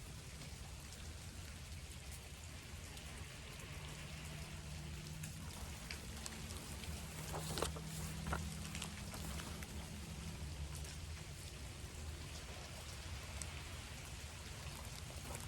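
Rain falls steadily in a dense, even hiss with soft low patter, continuous and alone, with a couple of slightly sharper drops near the middle.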